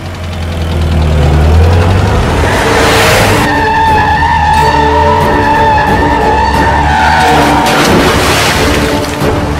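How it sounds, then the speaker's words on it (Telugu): A car starts and pulls away in a Telugu film scene: a loud low engine rumble gives way to a long tyre screech and skid, sustained over several seconds alongside steady tonal sound. "అప్పుడు ఒకరోజు కృష్ణ కార్ స్టార్ట్ చేశాడు."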